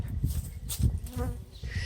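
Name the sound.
swarm of bees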